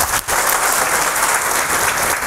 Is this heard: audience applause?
yes